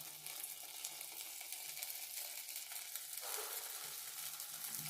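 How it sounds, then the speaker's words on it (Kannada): Balls of vada batter sizzle and crackle steadily in hot oil over a medium flame, a close, continuous frying hiss with no voices. "ಈ ಕಾತಿರುವಂಥ ಎಣ್ಣೆಯಲ್ಲಿ ಬಿಟ್ಕೊರಿ. ಮೀಡಿಯಂ ಫ್ಲೇಮಲ್ಲಿ ಇಟ್ಕೊಂಡು ಕರ್ಕೋಬೇಕು."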